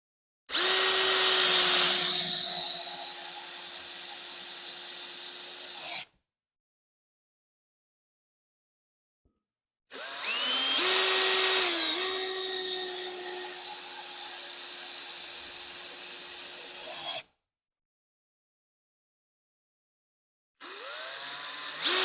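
A Ryobi power drill whirring loudly and close in three separate runs, each a sustained high motor whine with slight pitch shifts, separated by clean silent pauses.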